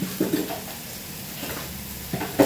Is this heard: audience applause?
no